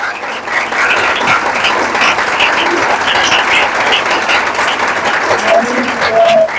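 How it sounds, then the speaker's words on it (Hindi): Congregation clapping at an Easter Sunday church service, continuous crowd applause lasting several seconds with voices and cheering mixed in. "तालियां बजती जाएं यीशु के लिए।"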